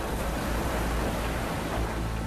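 Tsunami waves from an asteroid impact surge in a dense, steady roar of crashing water with deep rumble, loud and continuous with no clear breaks.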